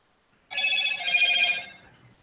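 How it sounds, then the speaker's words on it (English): A phone's text message notification, a bright electronic ringing tone with steady harmonic pitches that sounds once for about a second, loud and close with nothing else around it. "This is the most annoying notification."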